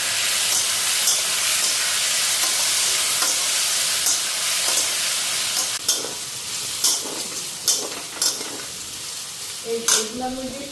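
Potatoes frying in a pan in a home kitchen, a constant loud sizzle with steam hiss, with sharper spatters and stirring scrapes toward the end and a brief voice near the close.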